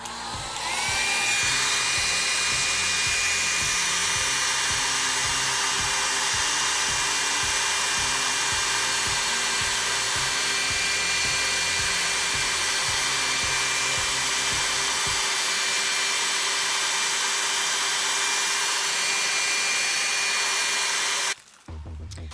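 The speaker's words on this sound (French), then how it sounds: "Avec le sèche-cheveux, toujours." A hair dryer blows steadily at close range with a loud, constant whoosh and a low pulsing hum, then cuts off near the end.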